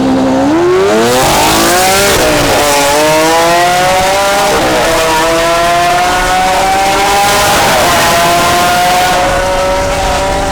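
A straight-piped Lamborghini Aventador accelerates hard through a tunnel, its extremely loud engine climbing in pitch through several gear changes, with a harsh, echoing roar throughout.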